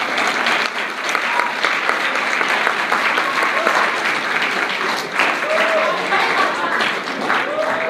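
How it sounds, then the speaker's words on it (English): A school audience applauds the principal coming on stage, steady dense clapping with some crowd noise sustained throughout at a fairly loud level. "Give a round of applause."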